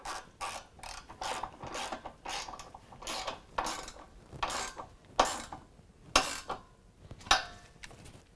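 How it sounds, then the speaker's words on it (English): A 13mm ratchet tightening carriage bolts on running board brackets of a 2015-2019 Chevy Silverado or GMC Sierra, a rapid series of close clicking pawl strokes in uneven bursts, with sharper louder clicks toward the end. "we can use our 13mm to tighten up our carriage bolts"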